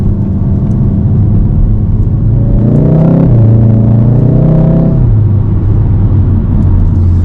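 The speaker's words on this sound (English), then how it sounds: "It's having a little burble." A Volkswagen Golf R Mk7.5 in traffic gives a loud, close exhaust burble, its engine note rising into a steady rumble midway before settling back to a low idle.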